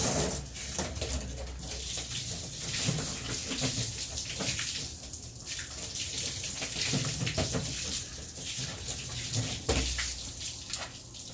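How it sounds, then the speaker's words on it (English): Tap water runs steadily while something is rinsed off after a cleaning product test, a continuous close splashing hiss with shifting surges as the flow is moved around. "let's rinse it off"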